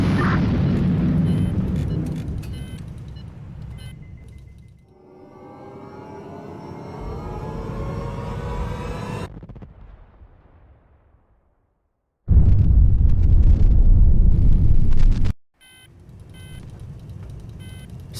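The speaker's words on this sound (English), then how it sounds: "let's send a missile at them" A missile launches toward an enemy strike group in HighFleet, a naval combat game: a deep rumbling blast fades, a rising whooshing streak follows, then silence and a later heavy explosive roar.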